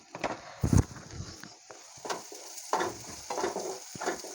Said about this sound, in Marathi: मसाले देखील आपण तेलात फ्राय करून घेऊया